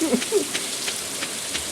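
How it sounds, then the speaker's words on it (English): Steady rain from the Stardew Valley video game, a soft continuous patter with faint low game tones near the start and no voices. "See, it's raining."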